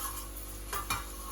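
Spices, dried chillies and curry leaves crackle softly in hot oil, a faint continuous sizzle with a couple of brief stirring scrapes, heard up close and alone.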